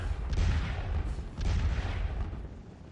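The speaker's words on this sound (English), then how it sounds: "Just a little artillery duel to close things out here" An artillery duel in the Napoleonic-era strategy game Scourge of War: Les Cent Jours, with heavy rolling cannon booms and rumbling low thunder in overlapping waves, fairly loud and continuous, with no voices.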